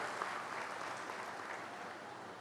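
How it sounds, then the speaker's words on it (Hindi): Steady applause from a crowd at a mega health camp event, continuous and fairly distant, with no breaks for the whole stretch. "जोरदार तालियों की उम्मीद करते हुए"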